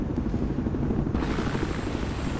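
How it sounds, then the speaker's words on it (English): A helicopter flies in the video game Battlefield 4, its rotor thrumming loudly and continuously, with a brighter rushing layer rising partway through; no talking is heard. "That helicopter's about to go down."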